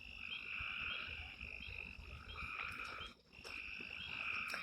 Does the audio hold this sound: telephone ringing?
no